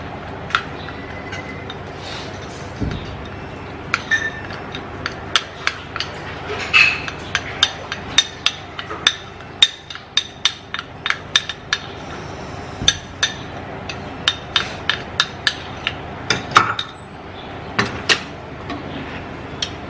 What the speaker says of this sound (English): Then I'll mix and it will get loose.